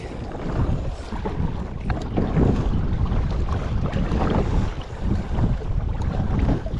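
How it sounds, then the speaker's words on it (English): Wind blowing across an open lake during a kayak outing, a steady loud rumble and buffeting against the microphone with faint water sounds, continuous with no voices. "I didn't anticipate it being windy on the whole lake."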